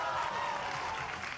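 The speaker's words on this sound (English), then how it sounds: "Give it up for Aspas, everyone." A crowd applauds and cheers for a Valorant esports team at a live match event. The dense, steady clapping fills the whole stretch without a break.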